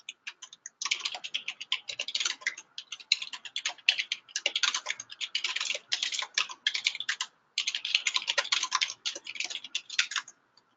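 Rapid, steady typing on a computer keyboard while registering a library account, with dense, light key clicks in quick runs and a couple of brief pauses, fairly quiet and close.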